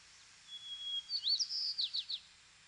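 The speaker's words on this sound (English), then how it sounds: "Before the majority of migrants arrive, the resident birds have already begun to sing." Resident birds sing in early spring on the Mid-Valley landscape: a thin high whistle followed by a quick run of bright chirps, clear and fairly close against a quiet background.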